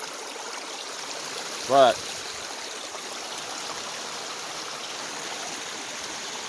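A clear, cold snow-melt mountain stream flows steadily, a constant close rush and trickle of water, with one brief spoken word breaking in near the start.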